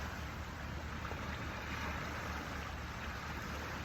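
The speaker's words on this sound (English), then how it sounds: "Notice that these waves, the sound of the waves, are appearing in the space of experiencing." Ocean waves washing steadily, a continuous broadband rush with low rumble and no distinct breaks, moderately quiet and uninterrupted.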